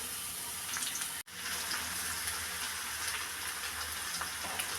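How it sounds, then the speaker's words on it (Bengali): Washed, cut eggplant goes into a pan of frying dried fish, and a loud, continuous hiss of oil and water fills the pan after a brief break in the sound. "শুটকিও ভাজা হয়ে গেছে, দিয়ে দিচ্ছি কেটে ধুয়ে রাখা বেগুন।"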